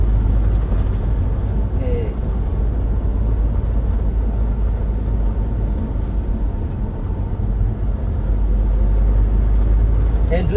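A 2013 Toyota Hiace Commuter van on the road during a gear change into third, a steady low engine and road rumble throughout, close and even, with someone talking over it.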